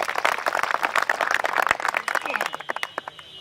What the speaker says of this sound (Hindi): हम तालियों से इनका इस्तकबाल करते हैं